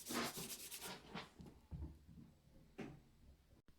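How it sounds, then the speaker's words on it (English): Short scraping rubs of sandpaper on a wooden guitar neck, a few quick strokes followed by pauses, close and fairly quiet. "So I finished sanding that"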